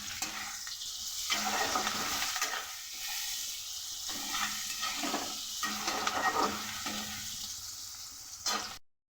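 Diced potatoes and onion fry in a pan with a steady close sizzle and hiss, broken by repeated scraping stirs of a spatula, continuing evenly until it cuts off.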